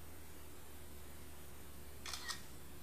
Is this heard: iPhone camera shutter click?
yes